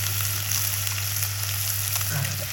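Crab fries in hot oil with turmeric for a village-style crab rasam, giving a steady, dense sizzle that carries evenly throughout with no voices.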